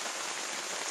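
Rain falls on a camping tarp pitched low to the ground above a one-person tent outdoors, a dense, continuous patter that fills the whole moment at an even level with no voices.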